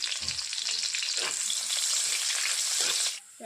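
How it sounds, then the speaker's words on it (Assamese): Onion and a bay leaf fry in hot oil, sizzling steadily in a pan, a continuous bright crackle with a couple of light stirring scrapes, cutting off just before the end. "এইখিনি মই অলপ সময় ভালদৰে ভাজি ল'ম।"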